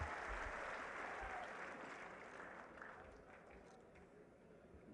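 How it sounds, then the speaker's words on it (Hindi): Sustained applause from a large audience at a public event in Haryana for Chief Minister Nayab Singh: a dense, steady wash of many hands clapping that slowly eases in loudness as it goes on. "एक बार जोरदार तालियां उनके लिए बजाएं।"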